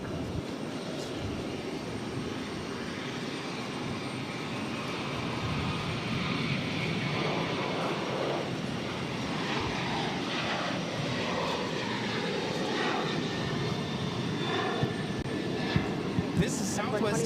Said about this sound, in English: This is Southwest Airlines 6465 taking off to Baltimore on the 737-800